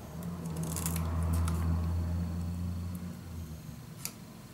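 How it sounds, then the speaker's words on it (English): Scissors trimming the paper edges of a handmade traveler's notebook make a few quick crisp snips near the start and one more toward the end, over a low steady hum. "Use your scissor or a knife. And I'm just going to cut the edges."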